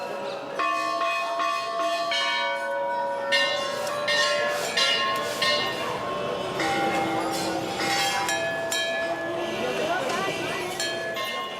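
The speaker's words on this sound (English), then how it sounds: "Clanging bells and spoken prayers." Many temple bells clang and ring out together in Varanasi, India, overlapping metallic strikes sustained throughout, with faint voices of spoken prayers beneath the clamor.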